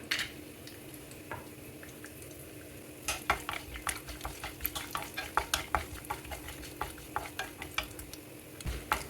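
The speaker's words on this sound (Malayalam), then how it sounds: "നെയ്യ് ചൂടായിട്ടുണ്ട് ഇതിലേക്ക് കുറച്ച് കശുവണ്ടി കുറച്ച് ബദാം" Cashews and almonds fry in ghee in a non-stick pan. A soft sizzle sits under repeated light scrapes and clicks of stirring that grow busier after the first few seconds.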